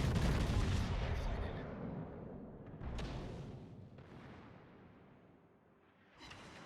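Heavy naval guns fire in the World of Warships video game, a loud booming salvo at the start and two more sharp blasts around three and six seconds, each with a long rumbling decay.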